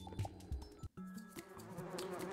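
Swarming bees buzz in the Donut County video game, a busy insect drone layered over game sounds, with a brief dropout midway before the buzzing resumes steadily.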